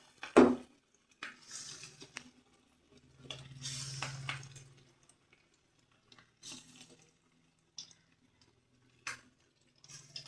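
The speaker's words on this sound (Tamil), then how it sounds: "இப்போ கறி எடுத்து ஒன்று ஒன்றா எடுத்து நீங்கள் கடாயில் எண்ணெயில் போட்டுக்கலாம்." Rice-flour-coated chicken pieces dropped one by one into hot oil in a kadai, giving short bursts of sizzle and crackle separated by quiet gaps, with light stirring and utensil sounds close by.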